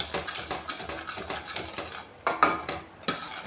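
Spatula scraping and stirring a ghee-based sweet in a pan, a steady run of rhythmic close strokes with metallic scrapes, pausing briefly before a few louder sharper scrapes, no voices.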